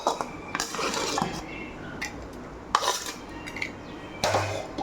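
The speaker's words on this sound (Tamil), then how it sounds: "இதை வலித்து நம்ம ஒரு பிளேட்டில் மாற்றிக்கலாம்" Sautéed gongura (sorrel) leaf thokku being scraped from a cooking pan onto a plate, with several scattered scraping and metallic clinks of utensil against pan, moderately close.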